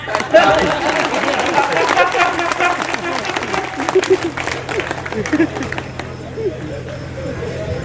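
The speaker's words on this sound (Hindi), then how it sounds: "ताली बजाएं" Audience applause at an all-India Hindi poetry gathering (kavi sammelan), a dense spread of clapping that fills the hall and slowly thins out, with crowd noise and some voices mixed in.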